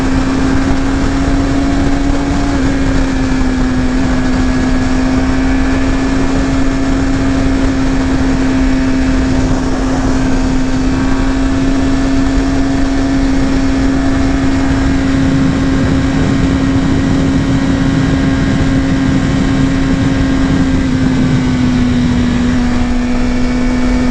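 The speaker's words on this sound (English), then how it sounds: "Absolutely love this bike right now." A 2018 Suzuki GSX-R750 motorcycle engine drones at a steady high pitch while riding on the highway, loud and continuous with a slight pitch dip partway through, mixed with wind noise.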